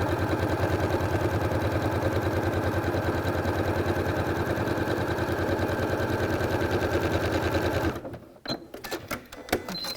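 A sewing machine fitted with a walking foot quilts straight lines, running in a fast, steady mechanical chatter for several seconds before stopping abruptly, followed by a few faint clicks and small handling taps.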